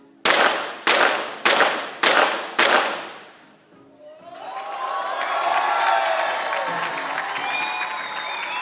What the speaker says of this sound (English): A big applause from the crowd as both of them hit 5 out of 5 5 hits.